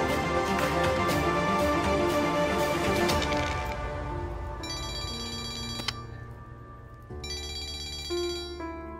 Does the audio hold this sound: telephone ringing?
yes